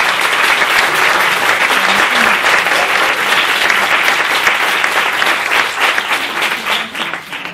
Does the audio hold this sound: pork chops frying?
no